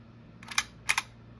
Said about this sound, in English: Here's the shutter button.